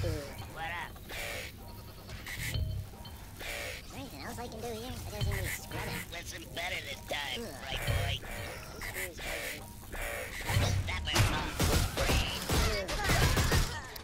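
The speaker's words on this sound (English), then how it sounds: "Trying to shoot them without killing the Mudokons" Video game gunfire in Oddworld New 'n' Tasty comes as repeated bursts of shots mixed with game effects and music, while a person talks throughout.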